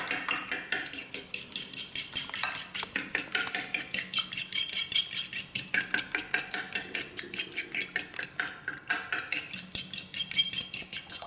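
Milk being whisked into a bowl of egg and salt for French toast, a fast regular clatter of utensil against the bowl, close and continuous, pausing briefly a few times.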